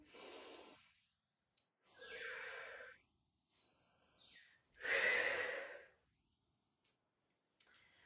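Slow, deep breaths during a circular arm-movement exercise, long audible inhales and exhales alternating with quiet pauses, close and soft.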